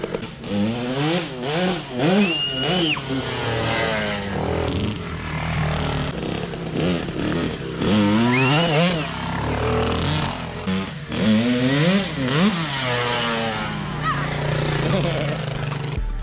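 Dirt bikes rev, a Yamaha YZ125 two-stroke and a four-stroke, their engines rising and falling in sharp repeated pulls, loud and close, while people talk over the noise.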